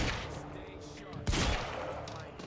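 Gunfire in the video game Quantum Break, a dense burst of rapid shots with one heavy blast midway, heard over a continuous game soundtrack and ambience.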